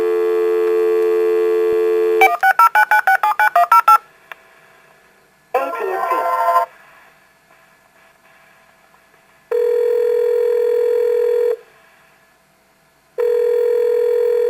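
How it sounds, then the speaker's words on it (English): A telephone call being placed: a steady dial tone, then a quick run of dialing tones, a burst of switching noise, and two long ringback tones separated by silence, loud and alone. "Dial him up."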